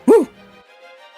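One short, sharp dog bark close by, followed by a faint lingering tone and near silence.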